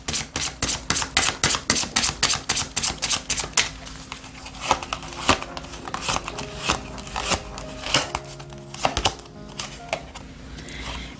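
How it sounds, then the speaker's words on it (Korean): A deck of tarot cards is shuffled up close, first as a fast, rhythmic run of crisp flicks and riffles, then as looser, irregular card slaps and snaps. "다시 셔플 하겠습니다"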